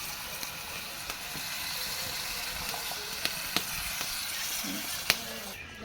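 A roasted country chicken curry simmers after water is added, with a faint, steady sizzle and scattered soft pops and ticks of bubbling; no voices.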